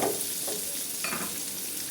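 A tomato goes into onions frying in a pan, giving a steady close sizzle with a few soft stirring scrapes over about two seconds, no voices.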